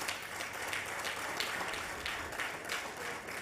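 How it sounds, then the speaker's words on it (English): Applause at a conference for the event organizers, a soft, distant wash of clapping from a hall audience that stays fairly even throughout. "I think those guys deserve a big round of applause"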